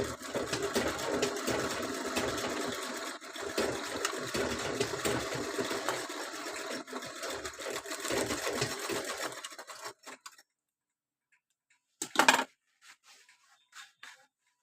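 A sewing machine stitches a fall strip onto a saree hem, running in one steady, close whirring burst for about ten seconds before stopping, followed by a sharp clack and a few faint handling taps in near silence, with no talking.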